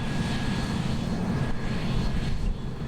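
Combine harvesters revving through a grain harvest, a loud steady engine drone with a slight swell near the end, no voices.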